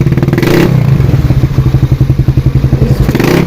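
Exhaust of a carbureted Honda Beat scooter with an aftermarket pipe, revving up close with a crisp, rapid popping pulse over a low engine rumble, loud and alone.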